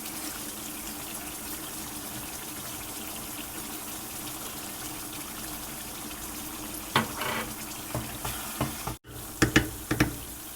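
Meat and onions frying in olive oil in a pan, a steady hiss filling the background, with a few sharp scraping and clattering stirs toward the end.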